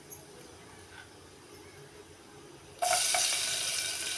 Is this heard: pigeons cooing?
no